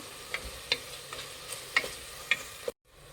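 A spoon stirs tomatoes and thick yogurt in a pan for egg biryani, giving soft scraping and faint sizzling broken by a few light clinks against the pan.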